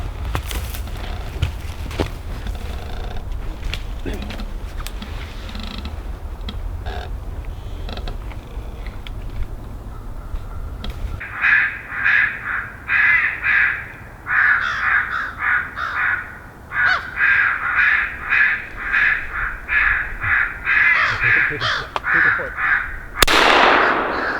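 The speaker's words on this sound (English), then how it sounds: "Are the crows nearby?" Crows caw repeatedly in loud, rhythmic bursts near a hunting blind with decoys set out at a small cabin, following a stretch of low rumbling and creaking.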